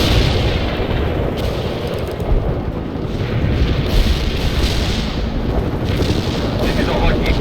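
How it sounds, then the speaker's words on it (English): Heavy artillery barrage in the strategy game World in Conflict, a continuous dense roar of overlapping booms and rumbling impacts at steady loudness throughout, with no clear gaps between blasts. "Deploy and lay down the heavy barrage. Artillery strike."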